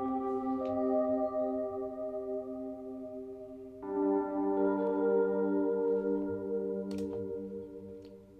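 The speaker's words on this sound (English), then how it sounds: "The first instrument, which is the Rhodes, remember? It sounds like this." Rhodes electric piano played through the Native Instruments Raum reverb plugin: two soft sustained chords ring out in turn, each with a smooth lingering reverberant tail, and no voices.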